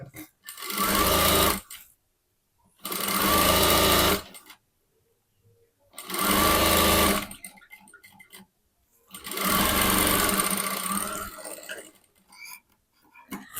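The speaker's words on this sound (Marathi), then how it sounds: "पुन्हा एक फोल्ड टाकून आपण टीप मारून घेणार आहोत." A sewing machine stitches the folded edge of a blouse in four loud, sustained runs of rapid whirring, with short pauses between them.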